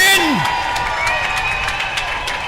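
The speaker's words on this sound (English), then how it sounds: "Cheer them in." Swim meet crowd cheering a swimmer to the finish, a sustained roar of voices with whoops and a falling shout at the start, steady and fairly close throughout.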